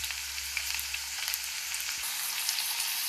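Steady crackling sizzle of pork fat frying in a pan with garlic scapes, a dense hiss with small pops throughout, close and continuous with no voices.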